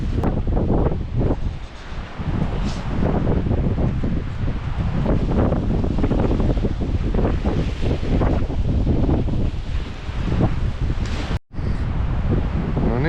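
Strong 20 m/s storm wind roars and buffets the microphone continuously at a winter campsite, a loud broadband rush with brief gusty swells and one sudden dropout.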